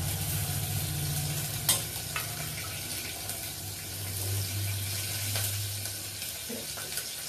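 Green chillies and curry leaves frying in hot oil for Maharashtrian kadhi give a steady, close sizzle, with a few brief stirring clinks and scrapes breaking through the constant crackle.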